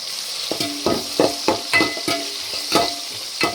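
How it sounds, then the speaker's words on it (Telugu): Spices frying and being stirred in a pan for a spicy Rayalaseema fish curry, with a steady sizzle broken by about ten sharp, regular scraping strokes of the spoon, close and fairly loud, no voices. "మరీ ఎక్కువ ఫ్రై అవ్వాల్సిన అవసరం లేదు కొంచెం ఫ్రై అయితే చాలు"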